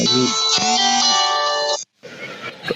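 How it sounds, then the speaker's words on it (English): An incoming call sets off a phone ringtone, a bright melodic tone playing steadily for almost two seconds before cutting out, followed by a short stretch of background noise. "because I got a call."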